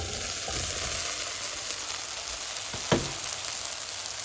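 Brinjal and chopped tomato fry in a pan with a steady, close sizzle and faint stirring scrapes, one sharper clack near the three-second mark, and no voices.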